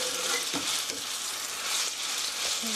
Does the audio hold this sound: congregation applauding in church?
no